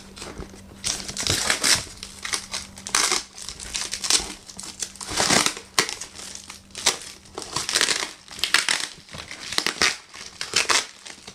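A taped plant shipping package is opened by hand, with repeated loud crinkling, crushing and tearing of tape and packing material in close, irregular bursts throughout, alone with no voices.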